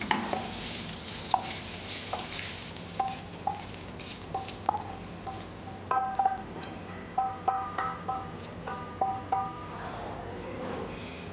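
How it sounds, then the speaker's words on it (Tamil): Spaghetti is tossed with fried garlic in a pan, with a quiet bed of frying and a series of light, evenly spaced metallic taps and clinks of a utensil against the pan; no talk. "இப்போது நல்லா அது கார்லிக் ஃப்ரை ஆகிருந்து அந்த ஸ்பெகதி போட்டு டாஸ் பண்ணிகிட்ருக்கோம்."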